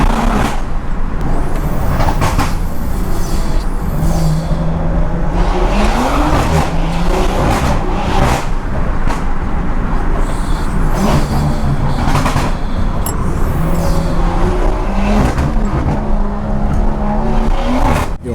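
A 2016 BMW 340i making about 600 hp slides on an evening drive. Loud, steady engine roar fills the whole stretch, with tires squealing in repeated drifting bursts. No one speaks.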